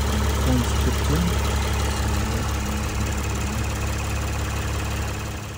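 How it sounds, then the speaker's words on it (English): A Lexus IS250/IS350 engine, warmed up and with a suspected thermostat problem, idles with a steady, close, low rumbling hum and a faint knocking texture, never changing pitch. "So the engine's been running for a while now"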